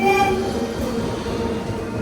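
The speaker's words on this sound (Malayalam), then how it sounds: "ആ അതേ വരുന്നു സ്പെഷ്യൽ ട്രെയിൻ." A train rumbles steadily past at close range, a continuous low roar with a faint tonal whine fading early on.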